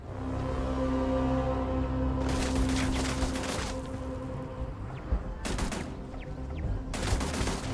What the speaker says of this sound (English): Ah, it's a bloody turret.